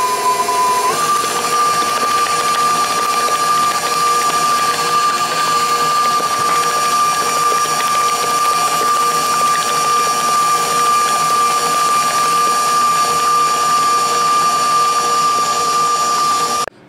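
An electric mixer beats butter and shortening for buttercream icing at high speed, a loud, steady whine that steps up in pitch near the start and then holds constant until it stops at the end.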